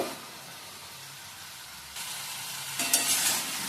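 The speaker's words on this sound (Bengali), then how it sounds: "এবার ভাজা করে নেব।" Chopped tomatoes with turmeric powder, a dried red chilli and five-spice seeds hiss in hot mustard oil, a soft sizzle that jumps louder as stirring starts, with quick scraping strokes near the end.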